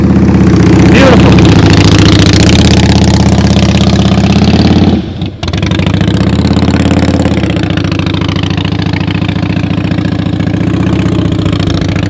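A motorcycle engine runs close by during slow-speed riding practice, holding a steady loud idle with throttle blips, briefly dropping out midway before resuming, while someone talks over it.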